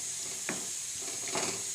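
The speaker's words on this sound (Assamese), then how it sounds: "লৰাই দিব, লৰাই 1 মিনিটমান এনেকৈ ভাজিব" Meat frying in a pan with a steady sizzle, broken by two brief scraping stirs; no voices.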